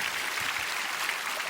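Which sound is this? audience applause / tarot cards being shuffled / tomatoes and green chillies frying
audience applause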